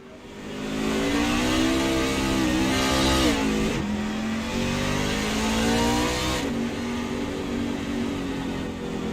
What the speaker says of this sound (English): as you can hear the engine revving up here on my mic